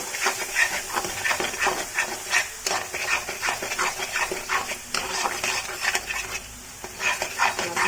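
Spiced masala for egg curry, with red chili, garam masala and chicken masala, frying and being stirred in a pan: steady close sizzle broken by repeated scraping strokes of a spatula, continuous for the whole stretch with no talk.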